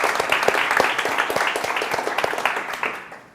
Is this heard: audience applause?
yes